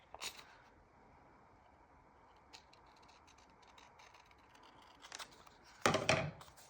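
Scissors cut a paper picture in half nearby, giving a faint, sparse scatter of small snips and a louder crisp cut near the end.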